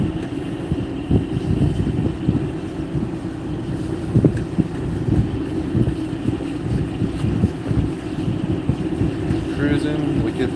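Boat cruising during winter king salmon trolling in Alaska, a steady low engine rumble with wind buffeting the microphone, continuous and close throughout.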